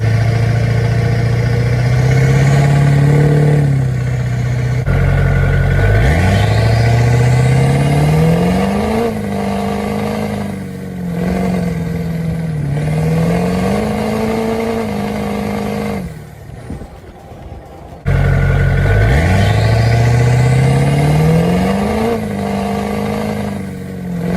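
A pickup truck fitted with traction bars drives on a road, its engine loud and close, revving up and easing off in waves, with a brief drop in noise before the engine surges again.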